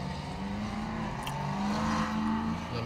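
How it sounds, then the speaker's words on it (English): A car passes by outside with a buzzing, motorcycle-like engine note that rises and swells toward the middle and then fades, heard at a moderate distance with no speech. "Sound like a motorcycle, but that was a fucking car."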